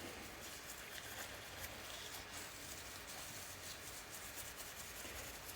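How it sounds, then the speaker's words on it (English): Steady scratchy rubbing of wire wool over the outside of a metal pen-turning tube, a continuous close abrasive hiss with no talk. "just with a piece of wire wool, just clean off"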